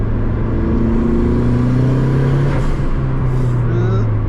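A Mazda MX5 Turbo accelerates hard with a loud, close engine drone rising steadily in pitch through the gears, heard from inside the car.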